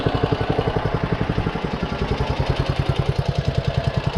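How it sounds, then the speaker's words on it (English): A John Deere 14SB walk-behind mower engine runs at a steady idle close by, with a rapid, even chugging pulse and a slight mechanical tap on top. "Engine sounds good."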